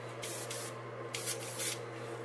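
Spray paint hisses through a stencil onto a white-painted pumpkinseed crankbait lure in several short close bursts, each a soft airy hiss, over a constant low hum.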